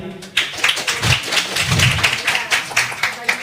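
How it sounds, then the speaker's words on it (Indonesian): An audience at a lively Indonesian religious debate claps their hands together again, a brisk burst of close, uneven clapping after a short pause, continuing steadily to the end. "Kita tepuk tangan sekali lagi."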